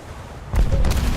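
A single heavy boom of naval gunfire from a warship hits suddenly after a quiet stretch in a video game, followed by a rumbling low tail.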